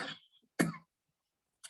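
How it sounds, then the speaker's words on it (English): A man coughs in short bursts: a harsh cough at the start, a second louder one just past half a second, then a brief cough onset near the end, with quiet gaps between, indoors during a sermon. "I don't know why I am coughing nowadays."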